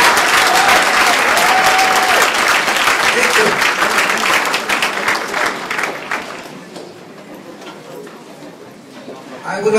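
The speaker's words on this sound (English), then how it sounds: "I would like to dedicate that applause" Loud applause from a crowd at a labor sit-down strike resistance tour event in Detroit, steady and dense for about six seconds, then tapering off before a brief final swell.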